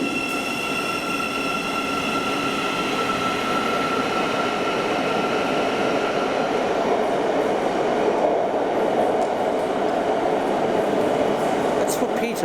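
A train running out of London King's Cross and climbing toward the canal tunnels gives a steady, loud rolling rumble with high wheel squeal throughout, and faint voices can be heard in the background.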